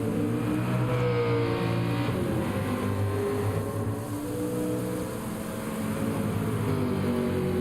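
Suzuki Alto race car in Gran Turismo 7, its engine droning and revving steadily at high pitch, loud and continuous with slight rises and falls in tone.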